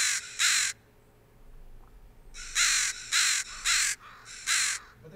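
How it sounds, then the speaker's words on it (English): An American crow caws loudly and nearby, a pair of harsh calls followed after a pause by a steady run of four more. "American crows are the ones who do the standard caw,"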